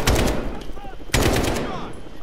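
AK rifle fire in Call of Duty Modern Warfare's campaign, two sharp loud bursts of automatic gunfire about a second apart, each decaying into a brief rattling tail, with no talking.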